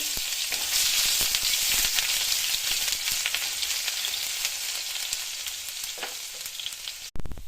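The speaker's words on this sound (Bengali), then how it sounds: "গ্রেভির জন্য তেলটা গরম করে নিয়েছি। প্রথমে আদা, রসুন, পেঁয়াজ কুচি দিয়ে ভালো করে নেড়ে নেব।" Ginger, garlic and chopped onion fry in hot oil for a restaurant-style chili chicken gravy, giving a loud, steady close sizzle with occasional stirring scrapes throughout, ending in a brief dip and a clatter.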